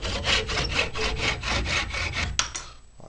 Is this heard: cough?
no